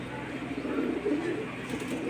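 Soft, low cooing from Rampuri pigeons murmurs steadily throughout, a continuous throaty burble from several birds close by.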